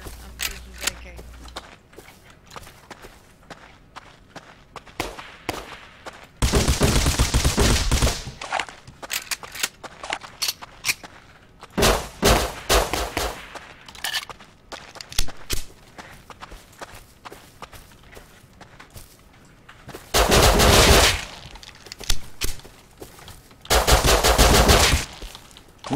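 Bursts of automatic AK rifle fire in the survival video game Rust, with several loud sustained volleys and scattered single shots and footsteps between them, plus occasional talk.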